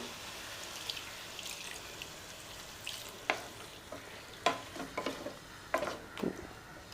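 Gongura chicken masala frying in a pan as water is poured in, giving a steady low sizzle with sharper bursts of hissing and crackling that flare up repeatedly, close and fairly soft, with no talking.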